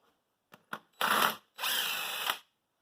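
A power tool spins off the wheel fasteners of a Cub Cadet 1882 garden tractor during steering disassembly. Two short taps come first, then two loud, sustained whirring bursts close by.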